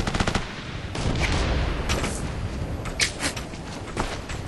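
Heavy, continuous gunfire from the shooter Operation Flashpoint: Red River: dense automatic bursts and crackling rifle shots overlap into a loud, unbroken barrage, with sharper volleys standing out every second or so.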